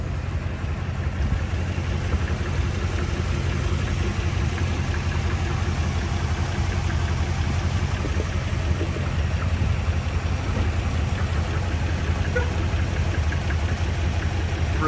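A 1957 Ford Thunderbird with its 312 Y-block V8 and automatic transmission idles steadily, a continuous low rumble at constant loudness with no pauses and no speech.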